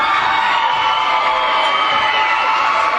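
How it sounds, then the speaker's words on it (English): A home crowd at a boys' high school basketball game between Decorah and Turkey Valley roars in a steady, loud wall of cheering and shouting during free throws. "Trojan crowd making a lot of noise."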